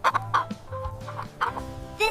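Chicken clucking in short, uneven bursts close by, with low throaty murmurs between the higher clucks.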